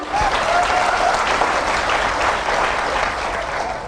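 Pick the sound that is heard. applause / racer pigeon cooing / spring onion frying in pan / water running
applause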